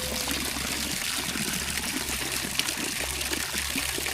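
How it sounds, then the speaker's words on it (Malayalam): Water falls continuously from high in a tall tree, a steady splashing trickle and gush heard up close, with no talking over it. "ഇത്ര ഹൈറ്റിൻ്റെ മേലെ കൂടെയാണ് ഈ വെള്ളം വന്നുകൊണ്ടിരിക്കുന്നത്"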